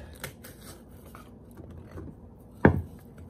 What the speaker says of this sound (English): it's a manual type of machine. You have to go like this, shredding it.